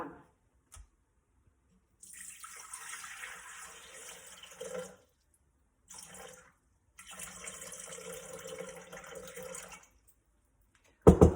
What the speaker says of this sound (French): là on va mettre 500 g d'eau